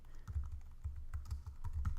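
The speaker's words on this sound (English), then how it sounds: "we can click within the box and we can start typing" Rapid, steady typing on a computer keyboard, close and clear, with quick clustered key clicks filling the moment without any talk.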